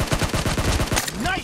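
Gunfire in PUBG Mobile, a rapid burst of about a dozen sharp automatic shots in quick succession, loud and close, ending with a short electronic tone.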